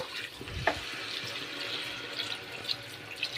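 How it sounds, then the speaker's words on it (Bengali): Water runs into a pot of dalia khichuri with two kinds of lentils, a soft, steady splashing pour, fairly faint and close, with no voices. "এবার জল দিয়ে দেব"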